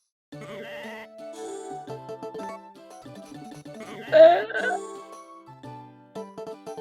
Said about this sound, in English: Now we have a Suffolk sheep.